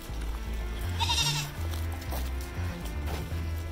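Goats bleat nearby on a farm as they are herded along with ponies, several short calls rising over outdoor background noise and footsteps.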